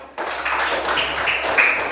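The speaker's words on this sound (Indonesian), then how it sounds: "Iya, tepuk tangan untuk sari." Classroom of students clapping their hands in applause, a short burst of steady, close clapping that starts abruptly and carries on evenly.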